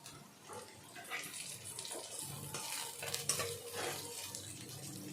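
Onion, garlic and chopped chili frying in a pan while being stirred, a steady wet sizzle with scraping and clinking of the spatula against the pan throughout.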